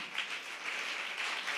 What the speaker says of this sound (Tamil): நல்ல தலைக்கு மேலே கூட கைத்தட்டி தேவனை மகிமைப்படுத்துங்க